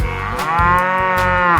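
A cow moos steadily and loudly throughout a 3D animal sliding video game, a long, harmonic bellow set over busy game music with a few short bursts of noise.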